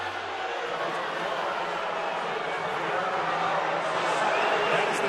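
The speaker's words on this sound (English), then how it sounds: "That is the sound of displeasure here at the Haskins Arena" A large basketball arena crowd at Haskins Arena boos in a sustained, loud wash of displeasure at a referee's call, steady throughout and swelling slightly toward the end.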